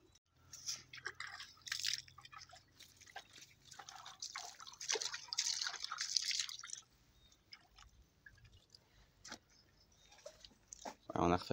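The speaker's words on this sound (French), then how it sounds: "une petite rivière pour que l'eau s'écoule dans les temps un peu plus loin. Ça coule, ça coule, ça coule." Small water trickle in a tropical garden stream, light dripping and gurgling flowing steadily up close, with someone speaking French over it in stretches.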